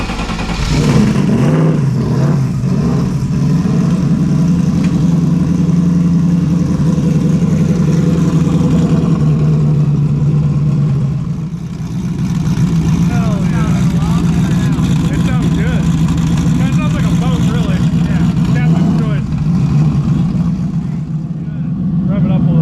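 A turbocharged car engine, newly fitted with a bigger turbo, fires up and keeps running with a steady, loud, close drone throughout. Its tone shifts slightly mid-way, and people talk over it.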